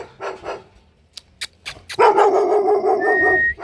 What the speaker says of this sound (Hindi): इस घर में कुत्ता पाल रखा है।